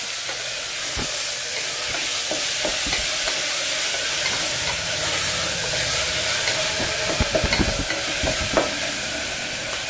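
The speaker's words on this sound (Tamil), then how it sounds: "இதையும் நல்லா வதக்கிக்கலாம்." Two medium tomatoes sautéing in a pan for chicken biryani give off a steady, close sizzle, with scattered stirring scrapes and clicks growing busier toward the end. No one speaks.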